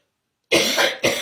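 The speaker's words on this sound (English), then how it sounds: "Still have a bit of a cough." Two close, sharp coughs, the second shorter, break a moment of silence indoors.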